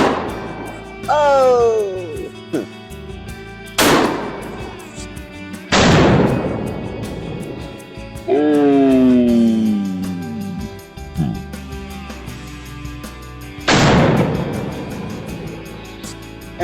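Shotgun firing bird shot at a target outdoors, several sharp loud blasts spaced seconds apart, with people talking and exclaiming between shots.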